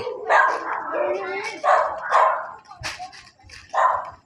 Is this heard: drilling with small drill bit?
no